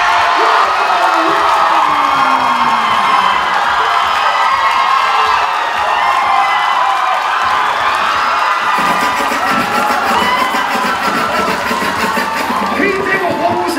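Loud crowd cheering and whooping from the audience at a waacking dance battle, a dense continuous roar of shouts and yells filling the whole stretch, rising in energy partway through.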